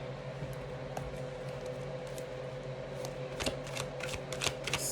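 Tarot cards are shuffled close by, a steady soft riffling that builds into sharper flicking bursts toward the end over a faint room hum.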